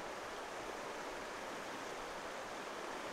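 A river in Greenland rushes and flows steadily in a continuous broad hiss of water, evenly loud with no pauses or voices.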